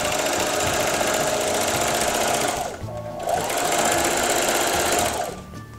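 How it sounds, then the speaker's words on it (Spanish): A sewing machine with a walking foot stitches rag quilt patchwork squares in two loud sustained runs of fast mechanical chatter, separated by a brief pause, with no talking. "vamos a instalar la patilla caminadora y vamos a ir cosiendo estos cuadritos con una gran X al centro"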